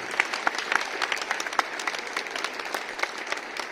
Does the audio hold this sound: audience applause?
yes